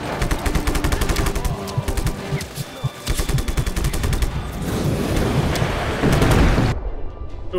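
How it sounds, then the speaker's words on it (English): Explosions and heavy gunfire in the video game Just Cause, rapid machine-gun bursts and blasts packed densely for several seconds, building to a deep rumbling boom before cutting off abruptly. "I got killed by my own explosion that time"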